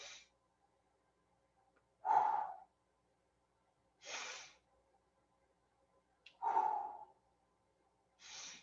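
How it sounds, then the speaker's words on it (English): Slow box-breathing cycle, with soft deep inhales through the nose alternating with longer sighing exhales, separated by quiet held pauses, close and alone with no talking. "So you breathe in, you hold, you exhale, you hold, and you do the pattern all over again."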